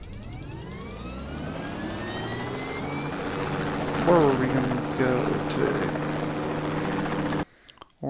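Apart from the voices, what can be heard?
helicopter taking off in video game Just Cause 2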